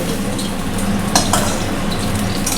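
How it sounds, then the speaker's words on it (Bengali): Loud, continuous sizzling of rohu fish frying in hot oil, with a couple of brief metallic scrapes and clinks from a utensil partway through. "দেখো মাছ তো এত ফুটছে"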